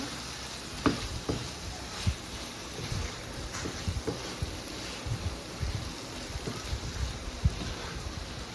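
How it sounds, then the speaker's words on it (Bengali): Fresh river prawns frying in a pan for a prawn dopiaza, a steady close sizzle with occasional sharper pops and scraping clicks from stirring. "চিংড়ি মাছটা দিয়ে আমি কষাবো"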